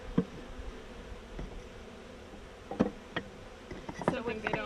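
Honey bees buzz softly around a top bar hive, a low steady drone broken by scattered close clicks and taps from handling the hive.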